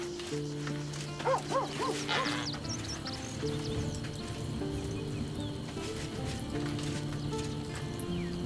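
A dog in Baldur's Gate 3 gives a few short barks and yips early on, over a faint game background with clip-clopping hooves and soft ambient tones.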